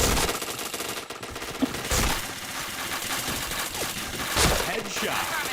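Loud bursts of rapid automatic gunfire in a shooter video game, with several sharp volleys spaced over a continuous background of battle noise.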